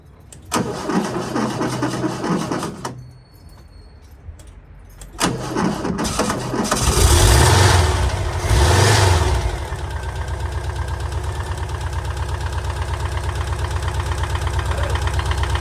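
A VW T25 Westfalia van engine, being recommissioned during restoration, cranks, catches after a few tries and settles into a loud, rough idle that keeps running steadily, close by.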